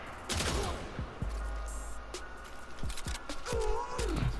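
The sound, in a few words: Tiberon Prime rifle burst fire in Warframe video game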